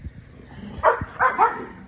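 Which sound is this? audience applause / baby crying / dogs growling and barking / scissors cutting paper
dogs growling and barking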